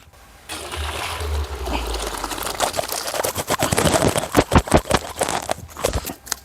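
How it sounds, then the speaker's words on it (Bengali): Starchy water drains off boiled golden rice for hilsa biryani, a steady splashing pour with rough bursts of liquid that grow louder and choppier toward the end, with no voices. "ফুটিয়ে নেওয়া সোনালি চাল থেকে ভালো করে মার ঝরিয়ে নেব"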